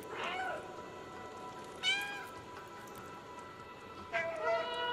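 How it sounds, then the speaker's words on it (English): Cat in the video game Stray meowing raspily, three separate meows spaced a couple of seconds apart, each a short harmonic cry, close and clear over a steady soft background hum. "You sound a little raspy there, kitty."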